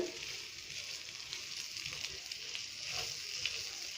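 A coriander dosa with onion cooking in oil on a pan, a faint, even sizzle with light crackling throughout and no speech.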